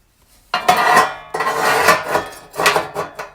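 Metal parts of an RV wood stove are set back in place, with loud close clanks and scraping of sheet metal in three bursts, bright and rattling, with no talk.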